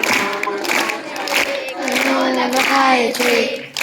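An audience at a devotional discourse claps along in steady rhythm to a chanted hymn, the many hands close and continuous beneath a sung voice.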